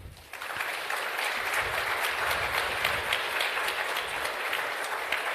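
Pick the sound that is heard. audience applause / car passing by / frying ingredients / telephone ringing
audience applause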